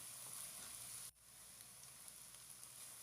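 Three beaten eggs fry in a pan with a steady, even sizzling hiss that cuts out for a moment, then carries on at a slightly lower level. No one speaks.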